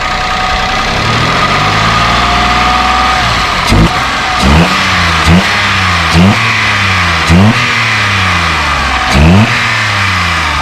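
Peugeot 107 engine, freshly replaced in a home DIY engine change, idling loudly up close and then blipped through a series of sharp revs that rise and fall about every second.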